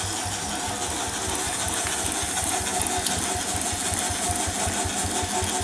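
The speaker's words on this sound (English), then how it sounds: "And this engine does run very nicely at a slow speed." A one-third scale Case steam engine running slowly in reverse, giving a steady rapid chuffing and mechanical clatter with a low rhythmic pulse, close and continuous with no talking.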